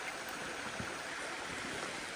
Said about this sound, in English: There is a bit of water running down the creek.